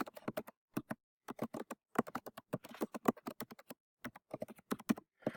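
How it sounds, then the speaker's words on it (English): Crisp, close computer keyboard keystrokes come in quick irregular bursts separated by brief silent pauses as a message is typed, with no speech. "And then I can just type a message to my students."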